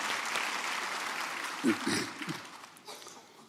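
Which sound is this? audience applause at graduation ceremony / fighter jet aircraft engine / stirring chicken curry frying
audience applause at graduation ceremony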